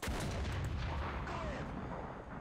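A tank cannon fires in the War Thunder video game, a single loud, heavy boom at the start that fades into a rumbling tail over about two seconds, with no voices.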